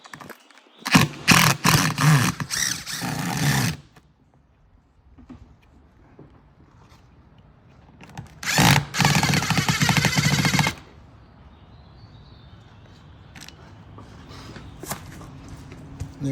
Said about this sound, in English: that one's gonna have to be drilled out